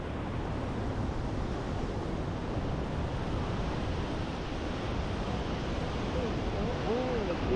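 Released water from the open Poondi Dam rushes in a steady, dense roar, broad and unbroken throughout, with a faint whistling tone near the end.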